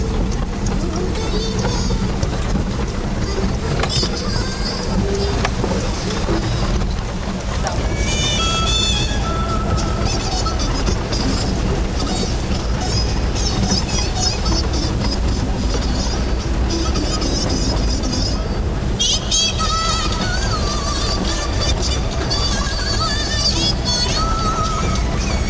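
A waterfall on the mountain road to Chandratal roars as a dense, constant rush of broadband noise, loud and close throughout, with no break in the wash of water.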